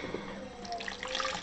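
Water is poured into a bowl with yeast to start a tsoureki, a Greek Easter bread, giving a steady, close, splashing trickle for a moment with no talking.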